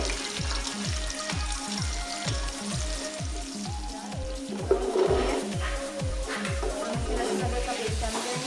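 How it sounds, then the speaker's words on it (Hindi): Onions fry toward golden brown with a soft, continuous sizzle, while a strong rhythmic low thumping repeats steadily beneath it throughout. "प्याज को गोल्डन ब्राउन कर लेंगे।"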